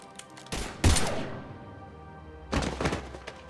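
Two sharp bursts of rapid gunfire in Mass Effect Legendary Edition, a clattering volley with heavy thuds near the start and another volley a couple of seconds later, over a low ambient hum.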